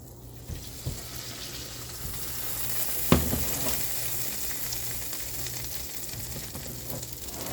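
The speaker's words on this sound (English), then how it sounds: "Our skillet is obviously nice and hot. And to that, we're going to add our batter." Dutch baby batter poured into a hot skillet: a steady sizzle and frying hiss, with a sharp clatter partway through and a few small knocks, close by and without talk.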